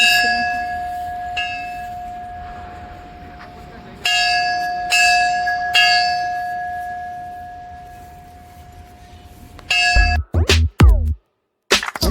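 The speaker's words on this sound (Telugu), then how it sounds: "గంట పెట్టారు" A temple bell at the Indrakeeladri Durga temple in Vijayawada rings out in several loud strikes, each leaving a long, sustained metallic tone that decays slowly before the next strike, with faint background voices and a few sharp knocks near the end.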